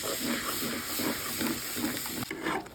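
Fried spice paste sizzles as it hits melted butter in a pan for butter chicken, giving a steady, close, even hiss with faint pulsing through the whole stretch and no talk.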